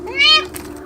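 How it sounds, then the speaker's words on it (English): A house cat gives a single short, clear meow up close, followed by quiet. "That's my other cat."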